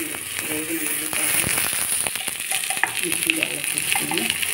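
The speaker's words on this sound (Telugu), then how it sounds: "వేగిన ఉల్లిపాయ" Onions frying in oil in a pan for an onion chilli paste, a steady close sizzle with crackles and stirring scrapes throughout, a voice speaking faintly underneath.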